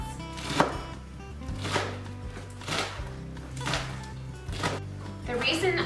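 A knife finely chopping romaine lettuce on a cutting board: several distinct, close chopping strokes in loose rhythm, with talk running beneath them.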